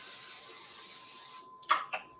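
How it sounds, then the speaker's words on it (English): Cooking spray hisses onto a small pan in a home kitchen as a steady, fairly quiet spray that stops abruptly, followed by two short clunks of the can or pan being set down. "We're going to spray this little pan."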